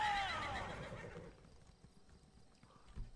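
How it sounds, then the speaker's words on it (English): A horse in Elder Scrolls Online gives a loud, high whinny at the start, which fades into soft, quiet shuffling and thuds. "Startle the horse."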